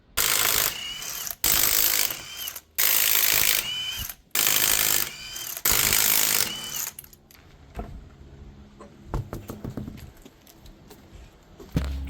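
While wheels come off an Infiniti G-series car for a rear end link job, a wrench tool runs in five loud, second-long bursts, followed by quieter clicks and metallic rattles of lug nuts.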